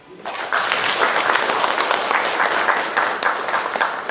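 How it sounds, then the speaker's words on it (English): An audience at a Red Cross annual general meeting breaks into applause, a sudden onset of many people clapping that stays steady and fairly loud for about four seconds. "Give her a clap"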